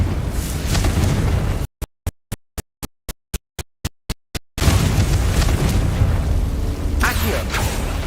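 Explosive blasting spell bursts in the Hogwarts Legacy video game, loud booming impacts before and after a rapid series of sharp, evenly spaced clicks, with a spoken spell incantation nearby.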